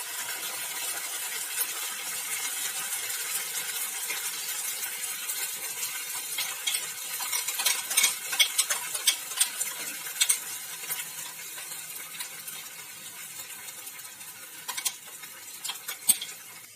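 Spice paste with a little water for a shahi egg curry sizzles softly in a pan, with scattered sharp clicks and scrapes of a spoon stirring it, fairly quiet and steady throughout.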